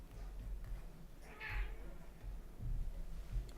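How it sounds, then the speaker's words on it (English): A cat lets out a single faint, distant meow over a low background hum, with no talking around it. "Heard a cat then."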